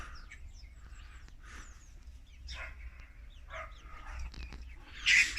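Hens in a yard cluck in soft, scattered bursts close by during a morning outing, with short calls at irregular intervals and a louder squawk near the end, over a quiet low background.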